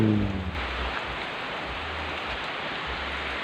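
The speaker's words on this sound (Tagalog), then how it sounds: "Grabe ang ulan" Heavy rain pours down steadily, a dense, continuous hiss with a low rumbling undertone, close and loud throughout.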